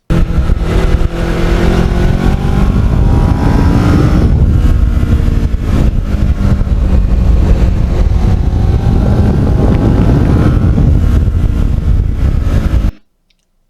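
A black Kawasaki Ninja motorcycle fitted with handmade carbon fiber parts roars steadily while being ridden, its engine loud and close throughout with a continuous drone and a faint shifting pitch, until it cuts off abruptly at the end.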